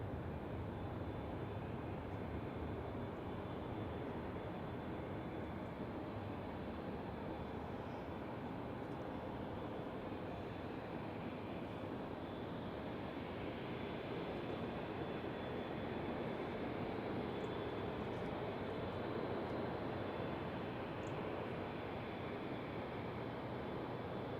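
A Boeing 787-9 Dreamliner bound for Shanghai sits lined up on the runway ready to depart, its engines giving off a steady, broad distant roar that holds even throughout, with no talking.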